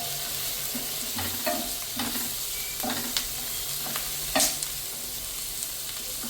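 Chilli chicken frying in a pan with salt and chilli flakes, stirred in repeated scraping strokes over a steady background sizzle, close and fairly loud.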